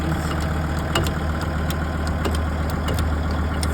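A skid steer loader engine idles steadily nearby, a continuous low mechanical drone with faint periodic ticking and no talking.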